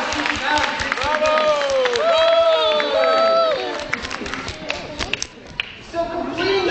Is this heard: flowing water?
no